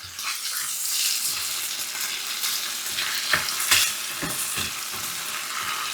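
Sauce ingredients sizzle and fry in a pan while being stirred and mixed, a steady crackling hiss with occasional scraping clicks, close and continuous.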